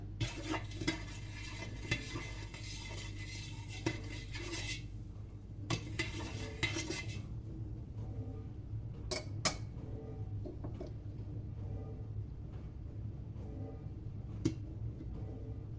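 A spoon stirs salt into warm water in a container for pickle brine, with scraping swirls and scattered light metallic clinks over a steady low hum, stopping partway through.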